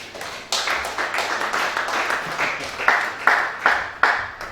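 A congregation at a night prayer vigil applauds together, with a steady patter of many hands followed by several louder, evenly spaced group claps toward the end.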